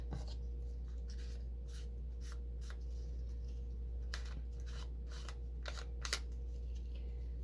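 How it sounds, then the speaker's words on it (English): Scissors snip a small piece of paper for a junk journal, a series of short, crisp cuts spaced irregularly over a low steady hum, close and fairly quiet with no talk. "I'm going to cut that little piece"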